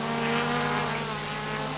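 Modified race cars at Kyalami, loud sustained engine howl with steady harmonic drone as a pack of cars runs together on the circuit.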